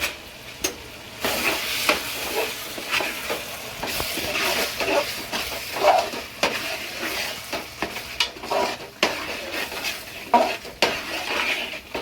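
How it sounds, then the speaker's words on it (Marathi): Cashew paste being stirred into a restaurant-style gravy in a pan: steady, close scraping and stirring strokes against the pan for the whole stretch, with a light sizzle of frying underneath and no talking. "मंडळी आपण काजूची पेस्ट टाकल्याच्या नंतर कंटिन्यू कंटिन्यू त्याला असं ढवळत राहायचं"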